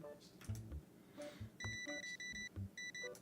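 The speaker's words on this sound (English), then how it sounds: "Beep, beep, beep, beep, beep." A card payment terminal in a card shop simulator video game gives a series of short electronic beeps in quick bursts, quiet, with faint game sounds between them.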